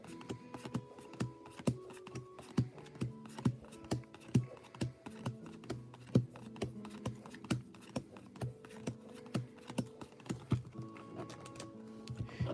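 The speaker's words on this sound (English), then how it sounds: "this is quite good shuffling at this point" Pokémon trading cards are shuffled by hand in repeated quick riffling bursts, close and fairly quiet, with no talk.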